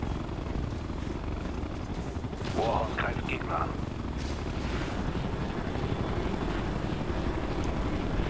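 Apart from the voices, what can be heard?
helicopter flying in the video game Ghost Recon Future Soldier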